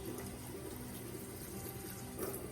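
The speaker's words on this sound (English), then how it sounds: "I'm basically just rinsing my leaves off because I like to get the dust off of the leaves" Tap water runs in a steady, even rush as plant leaves are rinsed free of dust, a continuous close splashing flow with no speech.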